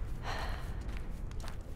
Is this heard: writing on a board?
no